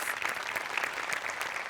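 An audience applauding in a comedy show studio, a dense, steady patter of many hands clapping at moderate loudness, with no voices standing out.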